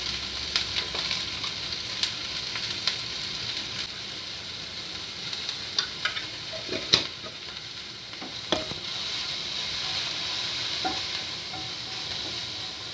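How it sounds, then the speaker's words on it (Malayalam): Onions sautéing with salt for fish curry, a steady hissing sizzle with occasional light scrapes and taps of a spoon stirring in the pan, close and without speech. "പിന്നെ ഇടുക, നന്നായി വഴറ്റാം"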